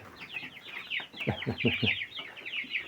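Many chicks cheep in rapid, high overlapping peeps near at hand, mixed with low clucking sounds from fowl.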